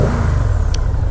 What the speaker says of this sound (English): Revs up nice and fast.